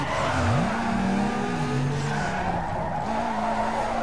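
Car tires screech and skid through a sustained drift in Need for Speed Underground 2, a loud continuous squeal with wavering pitch over steady engine roar, briefly dropping before picking up again.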